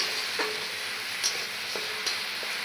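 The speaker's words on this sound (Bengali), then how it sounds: "আদা দেওয়া আছে তাই অল্প করে একটু ভেজে নেব" Spice paste with ginger, poppy seed and nuts fries in a pan for a vegetarian eggplant dish, a soft continuous sizzle broken by a few light clicks of stirring, close and without any voices.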